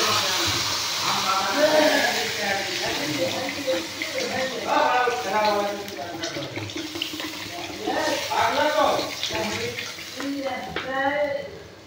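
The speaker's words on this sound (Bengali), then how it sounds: "এবার আমি জল দিয়ে দেবো।" Water poured into a cooking pot while making a Bengali lentil curry with coconut, a steady splashing stream with bubbling under someone talking throughout.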